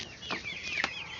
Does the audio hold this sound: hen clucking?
yes